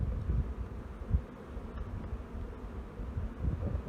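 Honey bees cluster tightly in an open hive to keep warm, giving a low, steady close buzz with faint rustling and no voices.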